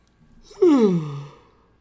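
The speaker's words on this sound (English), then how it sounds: "Another yawn." A person lets out a single long yawn, voiced and sliding downward in pitch, close and alone, lasting about a second before trailing off into quiet.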